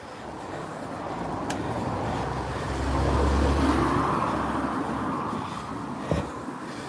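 Steady road traffic rumbles along a high road, a continuous broadband wash of passing cars that swells in the middle and eases off, with one brief thump near the end and no voices.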